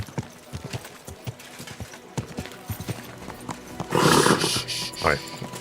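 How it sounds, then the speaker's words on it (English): In the medieval video game Kingdom Come Deliverance 2, a horse's hooves clip-clop in a steady walking rhythm, then the horse gives a loud whinny and a snort, with game voices sounding over it. "Easy, good horse."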